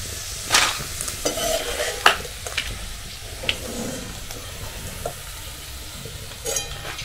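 Corn kernels frying in oil for crispy spicy corn sizzle steadily, while a spoon stirs and knocks against the pan in scattered, close-up clinks. No one speaks.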